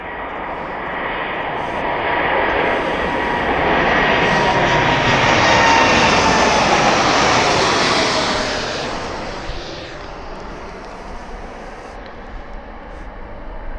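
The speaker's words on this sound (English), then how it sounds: "that was, I think, the best takeoff that aircraft has done since filming this" An aircraft taking off down the runway at East Midlands Airport, its engine roar swelling to a loud broad peak, then fading steadily into the distance.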